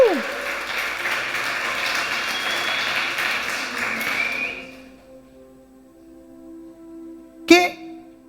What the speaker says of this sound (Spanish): dile un aplauso a Jesús, porque Jesús es hermoso.